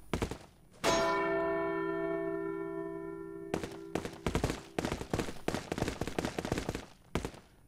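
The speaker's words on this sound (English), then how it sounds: "What do I do with the bells?" A single loud church bell strike in Resident Evil 4 rings out with a long, slowly fading tone. A rapid burst of sharp gunshots follows, one after another, with no speech.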